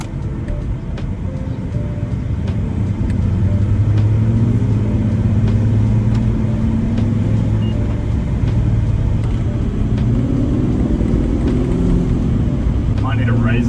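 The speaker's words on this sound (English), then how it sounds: "now we can actually go for a little test drive." A Toyota Soarer on a test drive after a coilover install, heard from inside as a continuous low road and engine rumble with shifting engine tones and a few light knocks.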